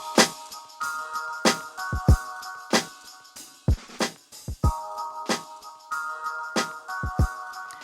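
A programmed drum beat made in Reason, before processing, with punchy kicks, snappy snares and hi-hats in a steady groove, fairly quiet and dry.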